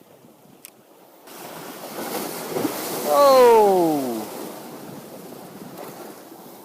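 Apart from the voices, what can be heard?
sea waves coming in on the shore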